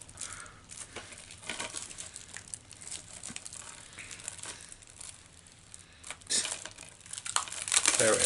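Video game copy of The Last of Us being unwrapped indoors, with bursts of crinkling and tearing plastic wrap that grow louder toward the end, over faint background noise.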